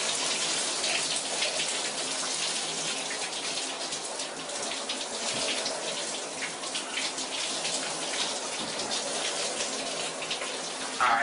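Shower water runs steadily, a dense close hiss of spray with splashing against surfaces that continues evenly throughout.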